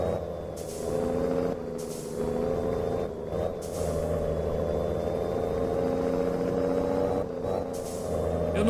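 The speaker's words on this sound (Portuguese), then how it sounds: "Vou soltar o freio de mão aqui" Air hiss of a heavy truck's handbrake being released in Heavy Truck Simulator, a long-combination road train with its engine idling steadily underneath; several short bursts of hissing air rise over the drone.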